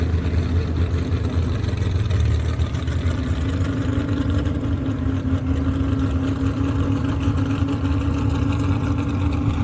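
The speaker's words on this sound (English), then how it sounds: "these trucks limited to 410 cubic inches, naturally aspirated, carbureted motor, turning in excess of" Pulling truck with a naturally aspirated, carbureted 410 cubic inch engine at a county fair truck pull, a steady loud engine drone with a low hum that runs throughout, heard at a distance with no talk.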